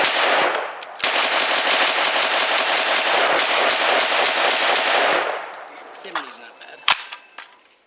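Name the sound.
IWI Tavor SAR bullpup rifle firing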